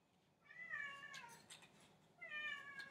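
A pet cat meows twice indoors, a drawn-out, wavering cry followed after a short pause by a second, moderately loud, with faint room noise between.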